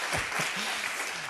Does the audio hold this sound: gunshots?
no